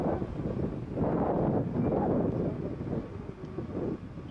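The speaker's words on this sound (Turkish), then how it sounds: "Maalesef rüzgarın şiddetli olduğunu da az önce Çanakkale Belediye Başkanı Muharrem Erkek bir kez daha ifade etti" Strong wind gusts at a wildfire scene in Çanakkale make a continuous rough buffeting roar against the microphone. The roar swells and eases across the stretch, and no voices are heard.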